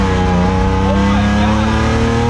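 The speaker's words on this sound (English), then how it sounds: "Even third gear is breaking it loose so easy." A drift car built on junkyard parts slides with its rear tires breaking loose, the engine roaring loud and steady close by with rising tire squeal throughout.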